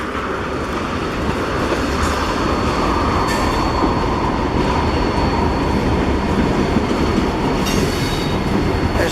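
A freight train rolls past at close range near Roanoke, with a remote distributed power locomotive in the consist, making a loud, steady roar of wheels and rail noise with faint clicking and a high metallic ring throughout.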